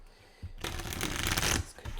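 Tarot cards being shuffled for a final draw: a dense, rustling burst of riffled cards for about a second, close and fairly loud, with quiet handling before and after.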